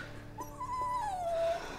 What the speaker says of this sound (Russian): Успокой собаку, пожалуйста, ничего не слышно.